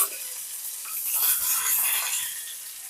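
Curry leaves hit hot oil for upma, giving a bright, steady sizzle and crackle that swells in the middle and stays close and fairly loud, with no voices.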